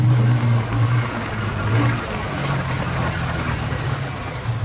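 An X&Y XY150 UTV engine drones steadily through a test drive, a low humming tone with broadband rumble that holds at an even loudness the whole time, with no talking.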